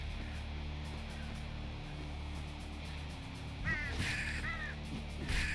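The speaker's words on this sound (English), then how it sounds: "This is what's killing me, the stupid birds." Harsh cawing from birds in the video game Slain: Back from Hell. A couple of short squawking bursts rise over a constant low rumbling game soundtrack near the end.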